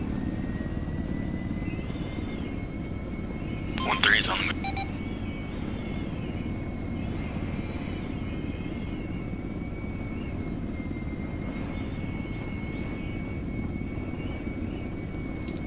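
Military helicopters in a tactical video game give a steady whirring drone throughout, with brief radio beeps and a short burst of radio chatter near the start.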